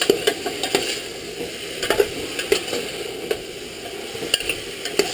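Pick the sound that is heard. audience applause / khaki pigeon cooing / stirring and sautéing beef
stirring and sautéing beef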